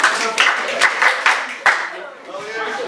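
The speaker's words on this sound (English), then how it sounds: "Clap for yourself." A physics class of students clapping for themselves in a classroom, a few brief bursts of claps close by, with a teacher's voice talking over and between them.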